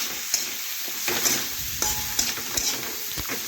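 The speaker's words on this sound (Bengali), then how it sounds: "এখন হলুদ আর লঙ্কা গুঁড়ো ভালোভাবে নাড়াচাড়া করে একটু মিশিয়ে নেব" Spoon stirring turmeric and red chili powder through a hot pan for a prawn dish, with steady sizzling and a few sharp scraping clicks against the metal, close and clear with no talk.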